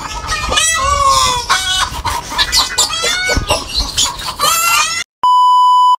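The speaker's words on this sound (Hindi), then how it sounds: "देखें कितना चिल्ला रहे हैं सारे मुर्गी जो है हमारे मोर वगैरह परिंदे कितना चिल्ला रहे हैं" A flock of chickens and other yard birds cluck and squawk loudly and excitedly, a rooster-like call rising among them, before a sudden electronic beep at the end.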